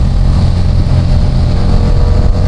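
A BMW F900R motorcycle engine screams near its limit in second gear, a loud, close, sustained roar that holds steady at high revs without easing off, with no talking over it.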